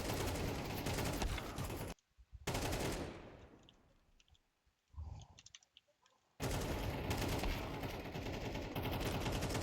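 Video game gunfire during a smoke-grenade fight: loud bursts of rapid automatic fire and single shots, broken by abrupt near-silent gaps and quieter stretches before heavy shooting resumes.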